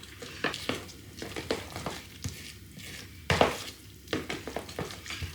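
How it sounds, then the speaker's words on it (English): Flour being stirred into thick cheese muffin batter in a bowl, a spoon scraping and knocking in irregular close strokes with soft wet mixing noises, no talk. "So stir in the flour."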